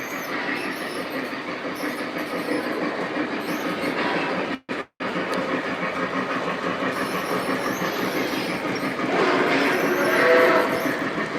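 Lionel and MTH model trains run steadily along the track of a home layout at slow speed, a continuous close rumble with faint clickety-clack and a brief break midway, growing slightly louder near the end.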